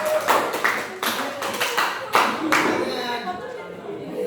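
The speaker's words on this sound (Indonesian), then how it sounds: "Tepuk tangan dulu buat kelompok" Classroom applause for a student group, with a quick burst of claps rising and falling in uneven waves while children chatter and talk underneath.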